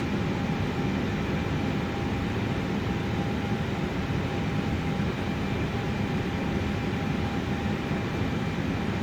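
Airliner engines spool up as the jet begins to taxi in Microsoft Flight Simulator 2024, a steady, loud broadband roar with a faint whine, constant through the whole stretch with no voices.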